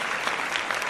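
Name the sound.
applause, claps for podcast guests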